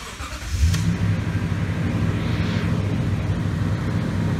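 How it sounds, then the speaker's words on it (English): A Toyota Tundra with a stalling fault cranks briefly and catches, then settles into a steady, fairly loud idle that continues to the end with no talking. "I'm gonna go ahead and crank the vehicle,"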